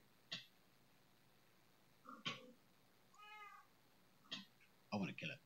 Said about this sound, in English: I can hear a cat.